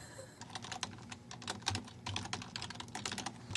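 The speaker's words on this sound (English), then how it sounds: "we're taking the Dave Ryan typing challenge right now" Rapid typing on a computer keyboard during a typing speed challenge, with quick, irregular bursts of keystrokes that run continuously at close range and no talk.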